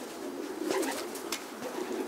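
Racing pigeons coo softly in a breeding loft, a low murmuring burble rising and falling across the moment, fairly close and steady with no talk over it.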